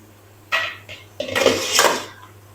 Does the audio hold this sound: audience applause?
no